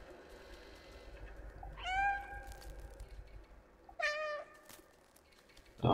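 A cat in the video game Stray meows twice, both bright and drawn out and a couple of seconds apart, over a faint ambient game backdrop.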